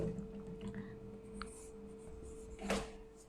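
Handwriting of numbers during a math explanation, soft scratchy pen strokes in short bursts against quiet room tone, close and faint, with a louder scrape near the end.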